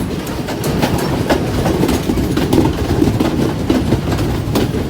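Colombo to Badulla passenger train in Sri Lanka rolling along the rails: a loud, continuous rumble with steady clickety-clack wheel beats, heard from on board with no talking.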